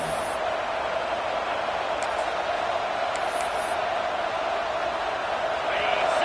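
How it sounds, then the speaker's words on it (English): Football stadium crowd in the early going of an Oregon game, a steady broad roar of distant voices holding at an even level throughout. "Listen to the crowd energy here in the early going."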